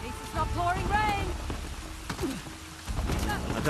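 Steady rain in the video game Uncharted: The Lost Legacy makes a constant broadband hiss throughout, with character voices and game sounds rising briefly over it.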